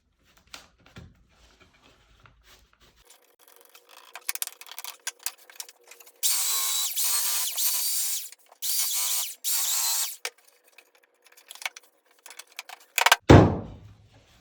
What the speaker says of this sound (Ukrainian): тут ще треба трошечки підшліфувати